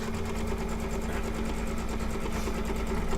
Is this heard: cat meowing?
no